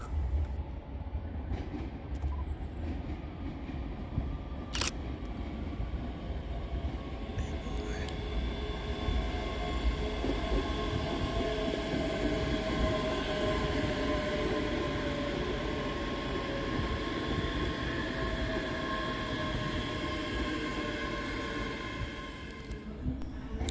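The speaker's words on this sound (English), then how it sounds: "Arriving on the far side is 385119, working the 1836 Scotrail service from Glasgow Queen Street to Edinburgh" Scotrail Class 385 electric unit 385119 pulls into Edinburgh Haymarket station on the far platform, a steady rumble and wheel noise holding at moderate distance for the whole stretch with a sharp brake squeal near the start, no voices.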